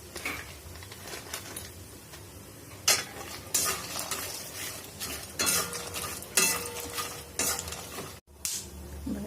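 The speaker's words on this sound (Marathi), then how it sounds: "बेगडी मिरची घेतलेली आहे, त्याला भाजून घेऊया थोडंसं तेल टाकून." Chili peppers and peanuts roasting in oil in a pan for a curry leaf chutney, a steady sizzle with a spoon stirring and scraping against the pan, loud and close, with no voices.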